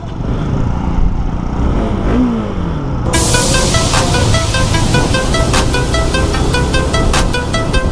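A Hyosung motorcycle riding out toward Dandiganahalli Dam, its engine a loud steady drone under heavy wind rush, with a brief pitch sweep early on and sustained roar throughout.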